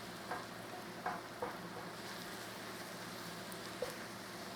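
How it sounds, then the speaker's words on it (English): Flour cooks in butter and onion juice for an onion gravy, giving a steady, even sizzle with a few sharp knocks of a utensil stirring the pan. "Stir that in, let it cook in there, look, with the butter and that onion juice."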